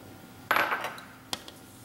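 A single sharp clink of a utensil on a bowl while egg white is folded into macaron batter, followed by a softer tap and a faint tick, close and quiet in an otherwise still room.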